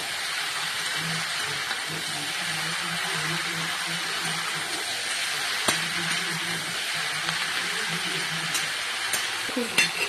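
Chili stirred into a frying mixture in a pan, a steady close sizzle with occasional scraping stirs and a few clinks.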